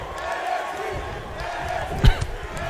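A wrestling arena crowd in WWE 2K19 roars in a steady, distant wash, with a sharp thud from the ring cutting through briefly near the end.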